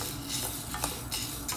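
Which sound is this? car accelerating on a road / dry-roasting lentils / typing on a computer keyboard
dry-roasting lentils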